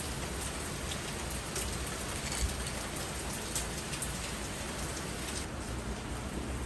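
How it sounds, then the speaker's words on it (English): Steady rain falling in a dense, even hiss, with occasional louder drops striking a surface close by, outside a garage. "Since it's raining at the moment"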